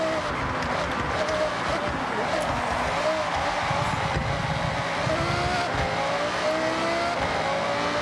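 An Audi R8 GT RWD V10 supercar in Forza Horizon 6 roars past with a loud, continuous high-revving engine note whose pitch rises and falls, while a person talks over it.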